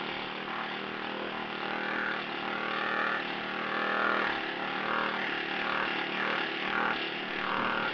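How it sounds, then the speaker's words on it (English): A Harbor Freight planishing hammer working sheet metal gives a steady mechanical hammering drone with a rapid, continuous machine rhythm, fairly loud and close, with no talking. "I'm not going to talk while the hammer's working"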